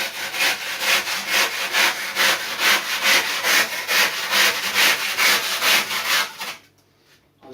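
Close, loud hand saw strokes cut thin slices from surfboard foam during a delaminated board repair, a steady rhythmic back-and-forth rasp of about twenty strokes that stops abruptly near the end.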